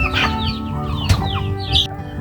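Grown chickens over three months old cluck and squawk while being given fermented feed mixed with water, several birds calling close by in overlapping bursts, with a brief flutter of wings.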